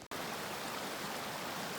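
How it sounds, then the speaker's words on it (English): A creek flows steadily beside a Colorado hiking trail among aspens, giving a continuous, even rush of water after a brief dropout at the very start, with no talk. "There's a beautiful creek"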